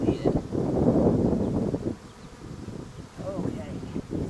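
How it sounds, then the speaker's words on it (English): A honey bee swarm hanging on a hive's top lid buzzes loudly and continuously up close, a dense droning hum with some wind noise and a brief dip midway. "That's a lot of bees."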